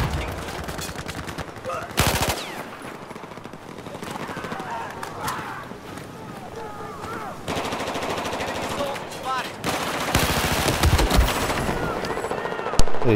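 AK rifle fire in Battlefield 4 comes as rapid, loud automatic bursts that repeat throughout, with other game gunfire and voices talking underneath.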